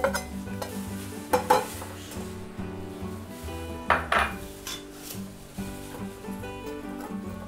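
Dry coconut roasts in a pan while a spoon stirs it, giving repeated scraping strokes and metallic clinks over a soft sizzle, close and steady with no talking.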